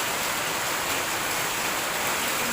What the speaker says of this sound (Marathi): असा जोरात येतोय पाऊस